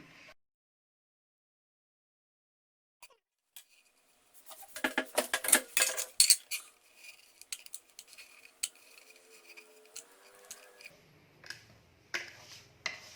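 Knife pressing through warm sesame and jaggery gajak to cut it into pieces, giving a series of close, crisp crunching cuts and clicks that come in uneven bursts after a quiet start.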